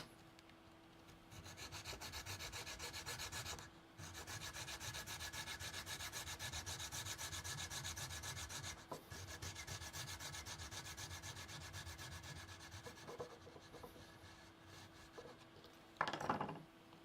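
A small junior hacksaw cuts with steady back-and-forth rubbing strokes, faint and continuous for most of the time, with two brief pauses and a sharper scrape near the end.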